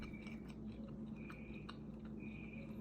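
Soft egg chewed slowly and close up, with quiet, wet, squishy mouth sounds and faint clicks over a steady background hiss, with no talking.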